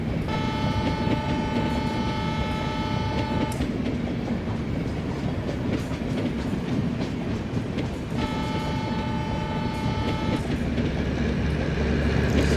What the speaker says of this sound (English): So this is the last coach of our train.